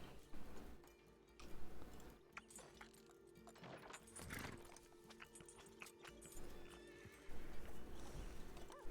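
A horse in the RedM western roleplay game neighs and whinnies while hooves clip-clop in an uneven walking rhythm, with bursts of louder activity near the start and end.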